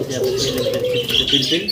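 Diamond doves coo from a caged pair in a pigeon-selling setup, soft repeated low calls close by while other birds chirp and someone talks in the background.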